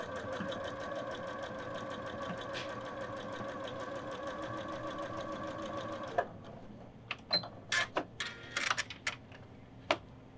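A sewing machine runs steadily, stitching a fabric seam for a snowman pillow with a fast, even needle rhythm, then stops and gives way to scattered clicks and handling knocks, all close and clear with no speech.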